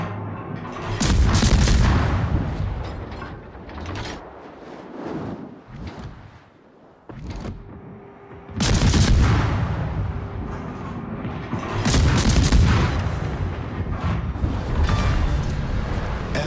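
Naval guns fire on a target in a video game, heavy booming bursts rolling out in loud waves with brief lulls between volleys.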